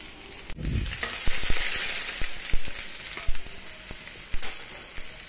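Garlic and ginger sizzle steadily in a hot pan, a continuous crackling fry with scattered sharp pops and clicks of a utensil, close and moderately loud.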